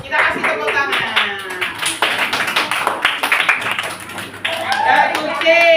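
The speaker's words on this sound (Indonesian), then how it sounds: "Kita kasih tepuk tangan" Schoolchildren clap together in a classroom, a burst of quick, uneven hand claps mixed with children's voices and chatter, fairly loud and close.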